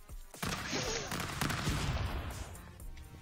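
Rapid bursts of gunfire from a stickman fighting video game, loud and dense with a few sharp shots standing out.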